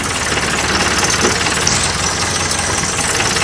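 The 86 HP CAT diesel engine of a 2004 Morbark Model 12 Blizzard 12-inch wood chipper runs at a loud, steady rumble close by, with an even throb and no voices.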